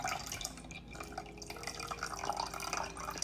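Store-bought pear and passion fruit juice pours into a glass nearby, a soft uneven trickle with small splashes and drips over a few seconds.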